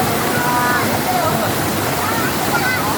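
Cold river water rushes and splashes steadily where children are bathing, a continuous close broadband flow with faint voices mixed in.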